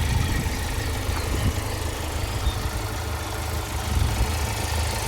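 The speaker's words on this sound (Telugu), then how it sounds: "ఇంజన్ సౌండ్ మాత్రం ఎట్లా ఉంది సార్" A 2019 Kia Seltos HTK+ diesel engine idles steadily nearby, a constant low rumble with a faint knocking texture and no change in pitch.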